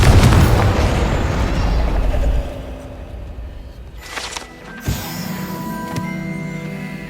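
A Confringo fire spell going off in Hogwarts Legacy, heard as a loud rumbling burst at the start that fades, then a sharp crack with a ringing, echoing tail midway.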